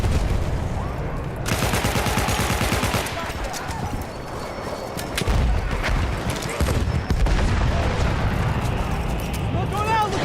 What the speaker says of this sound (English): Throwing smoke grenade!